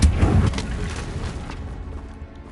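A Confringo blasting spell explodes in Hogwarts Legacy, a loud low boom opening the moment and then rumbling and crackling as it fades away.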